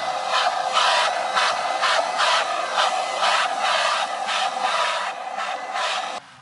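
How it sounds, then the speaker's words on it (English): Battery-powered vacuum sampler used outdoors to collect spiders from sphagnum moss and vegetation, giving a steady, loud mechanical whir with rhythmic pulsing bursts of rasping airflow throughout, cutting off at the very end. "a very similar vacuum sampler, but this one was battery powered"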